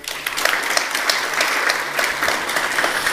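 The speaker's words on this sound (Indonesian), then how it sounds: "Sudah boleh tepuk tangan." A church congregation at a Sunday worship service claps together, a steady, fairly loud burst of applause with no voices over it.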